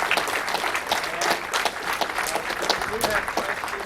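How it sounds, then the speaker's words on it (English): An audience at a lecture applauds the speaker, a brief burst of scattered clapping mixed with voices talking nearby. "let's give the speaker a round of applause."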